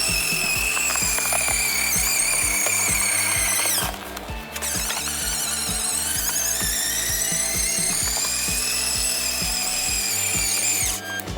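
A Lippert SlimRack RV slide-out mechanism runs after a repair, giving a loud, steady mechanical grinding and ratcheting drone that continues for about eleven seconds with a short dip in the middle and no talking.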